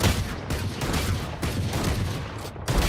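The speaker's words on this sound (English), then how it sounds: "Shotgun sucks, eh?" Shotgun gunfire in a video game, dense overlapping booming blasts that run continuously and loudly with no clear gaps between shots.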